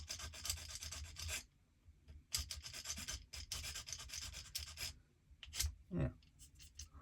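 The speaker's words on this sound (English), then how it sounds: "I'm going to take the opportunity to just file that little bit off there" Bursts of rasping and scraping as a file takes excess plastic off an Airfix 1/72 Supermarine Spitfire model kit part, close up, coming in several separate passes with short pauses between them.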